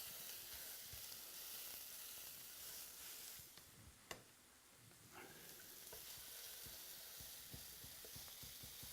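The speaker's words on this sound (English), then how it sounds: "I love the sound of that sizzle" Salisbury steaks sizzle steadily in a preheated electric fry pan at medium high, a constant close hiss with scattered pops and crackles and one sharper tap midway.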